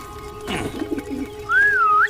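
A cartoon pigeon coos in a short, smooth, whistly call that rises and falls, following a brief soft rustle.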